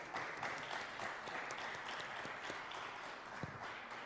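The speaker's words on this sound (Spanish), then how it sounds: "Oye, un aplauso" Studio audience applauding steadily throughout at a charity toy-drive Christmas event, dense continuous clapping with no voices over it.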